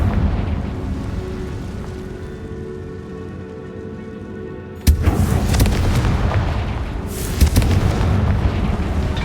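A sudden loud Confringo spell explosion in Hogwarts Legacy breaks the low ambient hum inside a tomb. A sustained rumbling roar follows, with a second burst a few seconds later.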